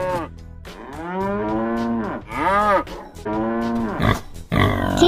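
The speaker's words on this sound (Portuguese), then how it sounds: "Vaca." A cow moos in several long, drawn-out calls with pauses between them, loud and close, ending in a rougher, breathier bellow.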